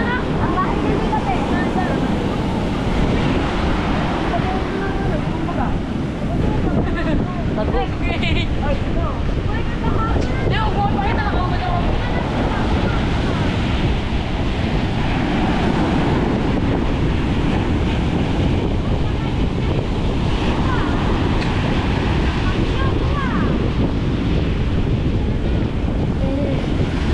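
Storm surge waves and strong wind batter and flood coastal houses along the shore at Bucana, a loud, unbroken roar of surf and gusting wind buffeting the microphone, with people's voices partly audible beneath.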